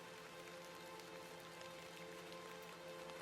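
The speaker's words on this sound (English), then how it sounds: "A bit of rain won't kill me" Steady rain falling in the video game The Excavation of Hob's Barrow, a soft continuous hiss of drops on surfaces, fairly faint and even throughout with no talking.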